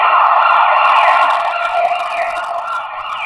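An ambulance siren passes an observer, loud and continuous, with its wailing tone dropping slightly in pitch as it moves away, alone without talking.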